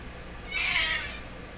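A pet cat gives a single drawn-out meow, clear and fairly close, rising over a low steady background hum with no talking.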